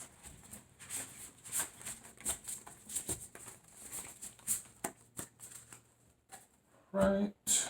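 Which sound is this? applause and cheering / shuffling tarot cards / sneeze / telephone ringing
shuffling tarot cards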